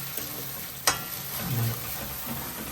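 An egg frying in a pan, a soft continuous sizzle with a sharp clack near the start and light scraping or stirring sounds, close up and without speech.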